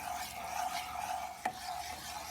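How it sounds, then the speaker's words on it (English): A spoon stirs a Kada Prasad mixture in a pan with a continuous scraping hiss, sizzling as the fat begins to separate, with one sharper scrape partway through. "Continue stirring it till you see the fat separates from the mixture."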